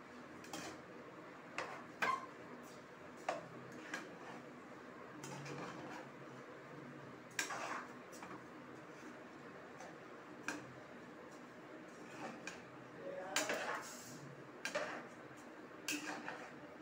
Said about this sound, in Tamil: நல்லா ரெண்டு கிண்டு கிண்டிக்கிறோம்.